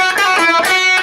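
Electric guitar riff, played with hammer-ons and pull-offs, a quick run of bright plucked notes with sharp attacks, loud and close, with no talking.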